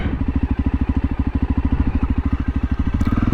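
A Voge 300 Rally motorcycle rides off on a short trail, its mid-pitched engine pulsing in a steady, rapid low thump close by, with slight clatter over the drone.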